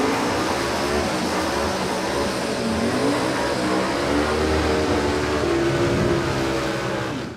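Drag racing cars roar steadily at Warwick Dragway, a loud continuous engine note that builds and holds with harmonic revving throughout, close and dominant with no talk.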